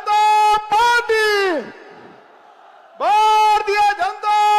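At a BJP rally in Amritsar, a voice amplified through a loudspeaker leads a party slogan, and after a short pause a loud, distorted, echoing call answers it in a chant-like rhythm.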